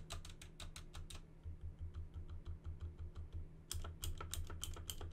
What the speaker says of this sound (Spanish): Aquí lo que suena es el tecleo, porque estos son switches azules.